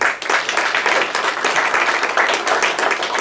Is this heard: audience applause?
yes